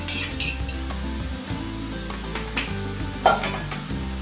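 Cauliflower rice and meat being stir fried in a pan, with clinks and scrapes of a utensil against the pan over a steady low sizzle; a short spoken remark comes near the start.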